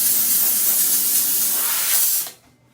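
A Comforday handheld pressurized steam cleaner gives off a loud, steady, close hiss of spraying steam that lasts about two seconds and then cuts off quickly into near silence.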